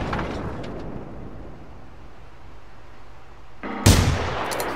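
A single loud, booming gunshot in the first-person shooter Generation Zero, erupting suddenly near the end after a stretch of quiet ambient noise, with a short echoing decay.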